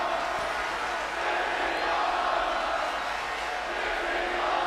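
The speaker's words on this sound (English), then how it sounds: "just listen to this crowd" A large crowd in WWE 2K23 roars and cheers continuously, a dense wall of distant voices that stays loud and steady throughout.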